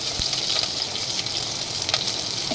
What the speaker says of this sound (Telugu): ఇప్పుడు ఆనియన్, పచ్చిమిర్చి వేసుకుంటున్నాను